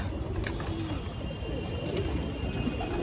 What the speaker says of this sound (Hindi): ये भाई चप कबूतर है, देख ले